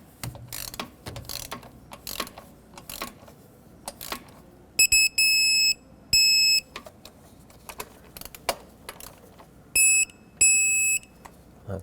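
A torque wrench tightens bolts to 89 inch-pounds on a 2009–2019 Ford Flex intake manifold: sharp ratcheting clicks at close range, broken by short electronic beeps marking the set torque, repeated for several bolts.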